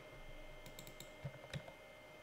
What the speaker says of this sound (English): I've got to use the keyboard here